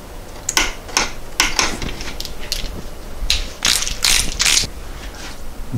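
A ratchet wrench tightening transmission bolts to 37 foot-pounds on a 1993 VW Cabriolet during a clutch replacement, giving close, sharp bursts of rapid clicking in uneven strokes, with several quick runs packed together near the end and no talking.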